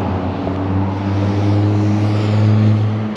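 A car passes along a city street lined with small shops at night, its engine a loud, steady, low droning hum that swells slightly as it goes by.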